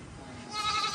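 A goat in a village setting lets out a single short, wavering bleat, faint and at a moderate distance, rising slightly toward its end.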